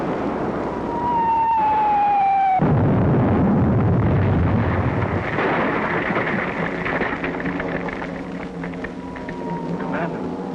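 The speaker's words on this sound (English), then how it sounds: "Shelling the barracks." Artillery shelling in a 1942 war film: after a brief tonal whine, a sudden heavy blast erupts into a long rumbling roar that slowly fades, with further booms under the decay.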